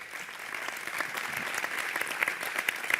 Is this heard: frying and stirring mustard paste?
no